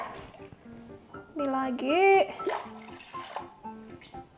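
Water pouring into a bubur sumsum flour mixture in a pot, a short gurgling, splashing pour in the middle, with a person speaking briefly and soft kitchen clatter around it.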